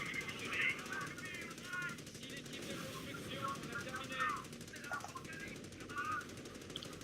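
Artillery and gunfire crackle in a Company of Heroes 4v4 battle, with a howitzer among the guns, giving repeated bursts and rattling shots over a busy, noisy field while someone talks.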